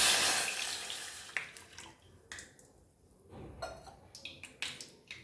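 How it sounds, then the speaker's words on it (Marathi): Water splashes into a pot for gulab jamun in a short pour that fades, followed by a few scattered clinks and drips nearby. "त्याच्यात आपल्याला पाणी टाकून घ्यायचं आहे"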